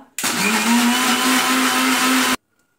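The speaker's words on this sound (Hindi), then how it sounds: "इथे आपण मिक्सरला सर्व फिरवून घेऊया।" An electric kitchen mixer blends chocolate milkshake with chocolate ice cream in a loud, steady whirring burst of about two seconds that cuts off abruptly into silence.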